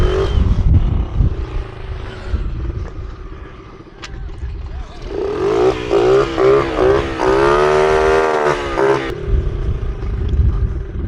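Motorcycle pushing through deep flood water that drags at the bike, with rumbling engine and splashing, while a rider speaks loudly over it in the middle stretch.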